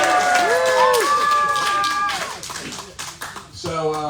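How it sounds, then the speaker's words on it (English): A crowd at a Waterloo Records in-store event with a musician claps after a person talking fades out. The clapping is a scattered, uneven patter of hands, and the talking picks up again at the end. "I want to hear clapping"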